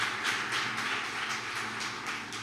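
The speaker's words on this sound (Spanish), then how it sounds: "démosles un aplauso" Church congregation applauding, steady rhythmic clapping at moderate distance, fairly soft and even, with no talking on top.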